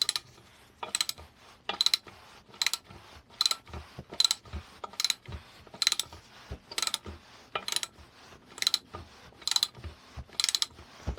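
Ratchet wrench tightening a 17mm bolt on a 1980 Suzuki FZ50 moped under restoration, with about fourteen crisp clicking bursts in a steady rhythm, close and alone.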